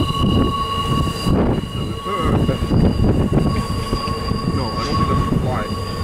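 A freight train rumbles past at Tehachapi with steady, loud rolling wheel noise and squealing tones, heard close and continuous while someone speaks over it.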